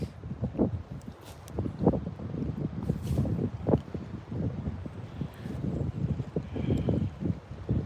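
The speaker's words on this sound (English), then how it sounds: "I think you guys can probably hear that wind." Wind gusts across a lake cove, buffeting the microphone with a loud, uneven low roar that rises and falls throughout.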